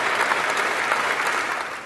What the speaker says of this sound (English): led by French President Emmanuel Macron, dignitaries and clergy rose to applaud the hundreds of Paris firefighters who fought for hours to douse the flames.